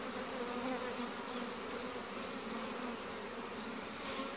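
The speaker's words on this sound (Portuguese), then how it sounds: "Olha lá, ó, tem a abelha viva." Honey bees buzz steadily over a beehive frame built on paraffin wax foundation, a dense, continuous close-up drone with no voices.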